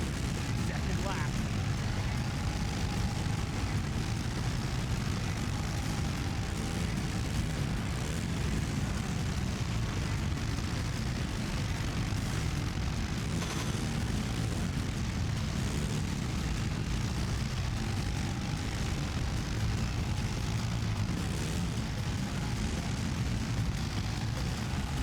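Kawasaki jet ski racing engines in a Wii video game, a constant loud droning engine roar with spray-like noise lasting the whole stretch, while people talk over it.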